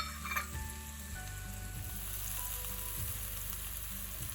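Shallots and ginger fry gently in a pan, giving a constant, soft, close sizzle with a few faint stirring touches and no talk.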